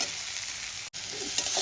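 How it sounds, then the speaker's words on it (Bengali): Fish head and elephant foot yam fry in hot oil in a wok, giving a steady close sizzle with stirring scrapes and a brief break partway through. "এবার ভালো করে ভেজে নেব।"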